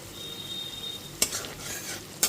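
Spice masala with tomato sautéed in a covered pan for a pabda fish curry, giving a low steady sizzle broken by two sharp clanks of metal against the pan, with no talk.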